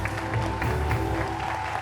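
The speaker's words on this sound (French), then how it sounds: "Alors applaudis pour Maël." Studio audience applauding a young guest on a French TV show, a short burst of steady, dense clapping that stays even throughout, with some voice mixed underneath.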